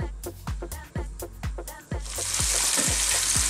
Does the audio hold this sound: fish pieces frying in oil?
yes